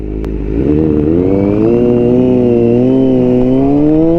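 A 2021 Honda CBR1000RR-R Fireblade SP with a flashed ECU roars loud and close while being ridden, its engine note pulling steadily upward in pitch as the bike accelerates, with no voices over it.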